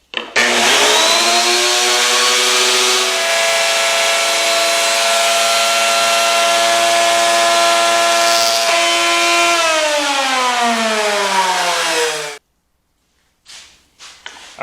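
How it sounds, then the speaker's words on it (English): A handheld router cuts wood for the lid of a Christmas decoration box, a loud steady high whine running for about twelve seconds with its pitch sagging near the end as it spins down, then brief quieter bursts. "Alright, so we got the top and the sides routed."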